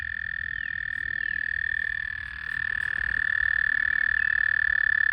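A dense chorus of frogs trills continuously in a steady high-pitched pulsing drone, loud and unbroken, with no voices.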